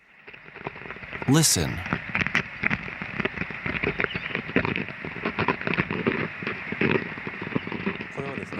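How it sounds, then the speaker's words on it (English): An ant crawling, close and amplified: dense, scratchy crackling with rapid tiny ticks and rustles, continuing steadily; a voice briefly speaks near the start. "This is the sound of an ant crawling."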